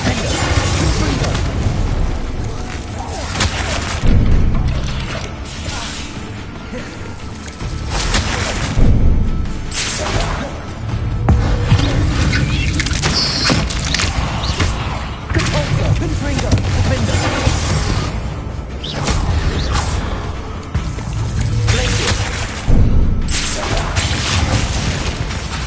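In Hogwarts Legacy, explosive spells go off in repeated heavy booms and crashes with whooshing bursts, loud and close over constant game noise.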